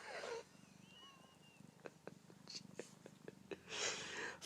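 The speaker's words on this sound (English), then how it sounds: "I am petting a cat. He's meowing and purring" A cat being petted purrs in a low, steady rumble beneath faint intermittent chirps and short meow-like calls, with brief louder noisy bursts at the start and end.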